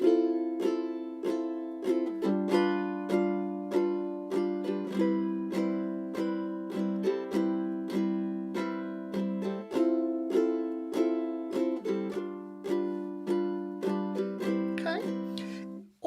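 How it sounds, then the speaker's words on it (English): A ukulele is strummed alone in a steady down-down-down-down-up pattern, each even stroke ringing clearly, close and moderately loud, with chord changes along the way and no talk over it. "the pattern that I'm doing is down, down, down, down, up"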